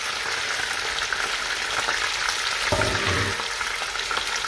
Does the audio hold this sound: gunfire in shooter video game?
no